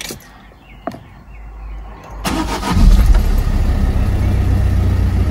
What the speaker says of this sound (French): Si je démarre le véhicule